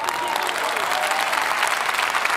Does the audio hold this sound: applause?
yes